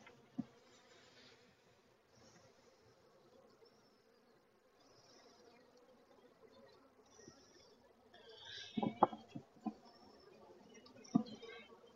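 Honeybees buzzing around hives in an apiary, a soft steady hum held low and even, with a few louder bumps and knocks near the end.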